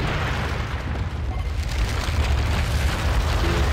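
Bomb explosions in the Gears of War video game, a loud, continuous, deep booming rumble that swells slightly toward the end, heard without talk.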